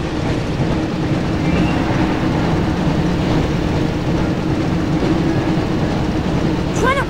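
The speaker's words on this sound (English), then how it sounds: "Looks like we found the train, Ron." Hogwarts Express from a Harry Potter video game rumbles steadily along the tracks, a loud continuous rolling roar with rail clatter, and a brief high squeal near the end.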